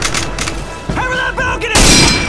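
Gunfire crackles through a Day of Defeat World War II battle: scattered shots and thumps, a short whine-like tone in the middle, then a loud sharp blast at the end, with shouted voices mixed in.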